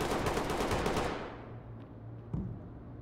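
Dense burst of rapid gunfire in the tactical shooter Ready or Not, shots coming through walls, loud for about a second then cutting off, leaving a low hum and one faint later crack.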